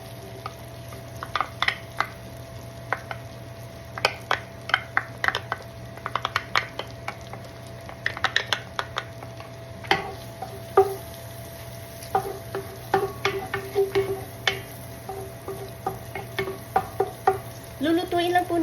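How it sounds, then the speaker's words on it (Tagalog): Garlic sautés in a pan with a light, steady sizzle. Frequent sharp clicks and scrapes from a utensil stirring against the pan sit on top, and no one talks. "Lulutuin lang po natin ng konti ang garlic until the aroma comes out."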